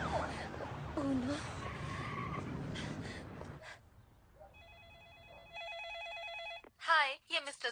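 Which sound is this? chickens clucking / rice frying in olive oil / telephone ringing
telephone ringing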